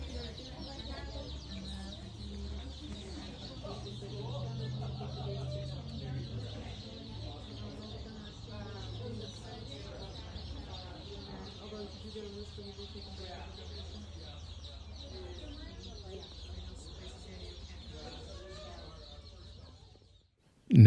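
Baby chicks in a carrier chirping and peeping continuously and softly, with low clucking-like murmurs and a steady background hum, ending in an abrupt loud thump.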